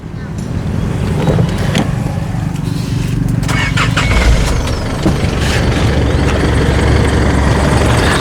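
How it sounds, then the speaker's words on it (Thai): The 3.0-litre diesel engine of an Isuzu D-Max pickup idles steadily with a low, rumbling drone and clattering texture, close by and loud, constant throughout. "เชิญฟังเสียงเครื่องไปเลยครับ"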